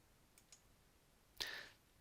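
A single mouse click on a View button in VAT bridging software, a sharp faint click preceded by two tiny ticks, in an otherwise quiet room.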